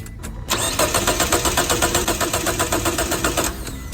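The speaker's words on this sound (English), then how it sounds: "Look here, start the car." A car that won't start cranks for about three seconds, the starter churning in a fast, even rhythm with the engine never catching, loud and close after a brief click.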